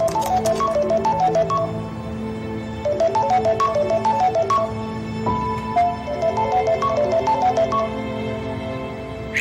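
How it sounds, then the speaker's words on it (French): A melodic phone ringtone repeats in looping bursts of bright electronic notes during an attempt to reach someone by telephone, clear and steady with brief pauses between phrases. "Ah, Ozan, j'appelle Ozan"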